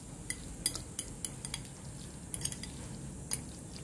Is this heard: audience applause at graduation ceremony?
no